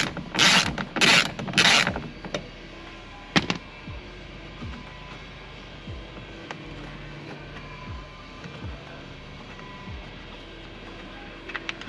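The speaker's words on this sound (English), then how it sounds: "Probably the smarter thing would be to just loosen them with the ratchet and then going by hand there." A hand ratchet loosening bolts on the passenger door panel of a 2018 RAM Quad Cab, beginning with three loud bursts of rapid clicking, then a sharp clack and scattered faint creaks and clicks that continue without speech.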